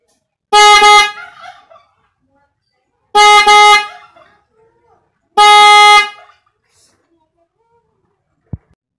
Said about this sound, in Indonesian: kalau misalnya mau nyapa orang atau sekedar klakson kecil ya pakai ini ya